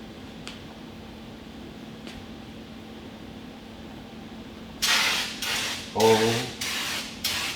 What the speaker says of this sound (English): That is a wide spray.